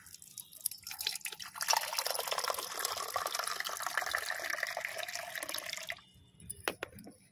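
Water poured from a container, filling it for a homemade liquid fertilizer for a mogra plant, a steady close splashing gush for about six seconds, then stopping with a few drips.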